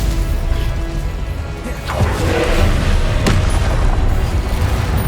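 A Stupefy spell strikes in Hogwarts Legacy, hitting with a sharp booming crash over a dense wash of combat noise, followed by a second thudding impact moments later.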